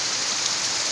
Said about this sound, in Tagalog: April 4 yan, umuulan.